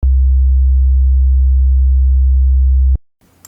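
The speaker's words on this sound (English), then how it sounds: "I'm going to play you this sine wave" A steady low-pitched sine test tone plays loudly through a speaker for about three seconds, then cuts off abruptly, leaving faint background noise.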